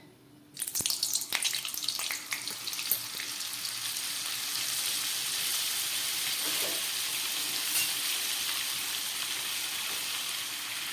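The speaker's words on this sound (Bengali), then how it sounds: "তেলের মধ্যে আমি দিয়ে দিচ্ছি একটু বাটার" Butter added to a little white oil in a wok starts sizzling after a brief clatter, settling into a steady, close hiss that holds evenly without any voices.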